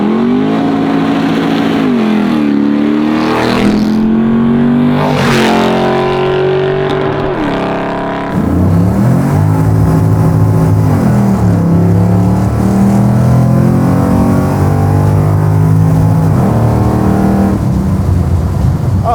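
A custom 1964 Chevrolet Chevelle V8 revs hard and accelerates, its loud engine note climbing in pitch, dipping briefly, then pulling strongly again close by.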